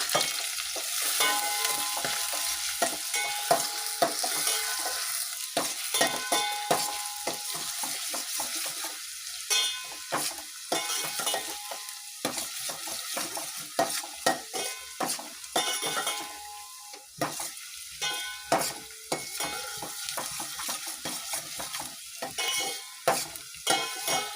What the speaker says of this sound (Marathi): बारीक चिरलेला कांदा आणि हे कढीपत्ता। बारीक गॅसवर मी छान परतून घेणार आहे।